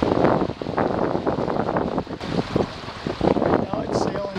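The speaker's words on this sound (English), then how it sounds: "Sailing along at 4 and 5 knots." A Mudhen sailboat moving at four to five knots, with water rushing and splashing against the hull and wind buffeting the microphone, near and steady, with a voice speaking over it.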